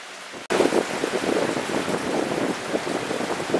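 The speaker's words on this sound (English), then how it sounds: "the evaporated cooling valve, which is working very well, is running, and that's what you hear." Water rushes steadily from a running evaporative cooling valve in a hydroponic greenhouse, a dense, continuous splashing hiss that starts abruptly after a brief quiet moment and holds close and loud throughout.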